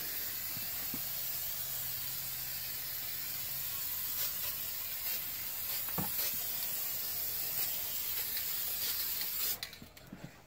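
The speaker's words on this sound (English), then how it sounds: "Okay, so now we're going to spray the activator." A spray can of hydro dip activator hisses in one long, steady, faint burst that runs for nearly ten seconds, then stops, with no talking.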